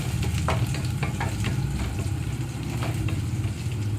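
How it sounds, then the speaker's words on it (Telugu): Chopped onion pieces fry in hot oil on a low flame while a rice dish is cooked, giving a steady, dense sizzle and crackle that continues evenly throughout with no talking. "కట్ చేసి పెట్టుకున్న ఉల్లిపాయ ముక్కలు వేసేసుకుంటున్నాను ఇందులో. ఇక్కడ ఉల్లిపాయ ముక్కలు కొంచెం దోరగా వేగిపోవాలి."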